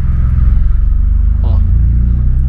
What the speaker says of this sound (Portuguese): Olha o escapezinho, galera.